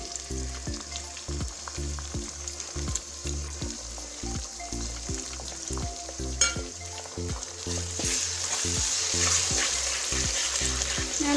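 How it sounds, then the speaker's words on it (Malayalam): Five beaten eggs scramble and fry in a pan for simple egg fried rice, a steady close sizzle under repeated rhythmic scraping of a spatula against the pan, growing louder toward the end. "ചിക്കി വറുത്തെടുക്കാം."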